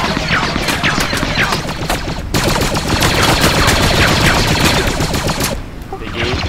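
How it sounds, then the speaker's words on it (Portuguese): Rapid automatic gunfire in the video game Squad, dense bursts of loud shots in quick succession with brief pauses, close and continuous, with a player talking underneath. "Acho que precisa de mais tiro pra matar."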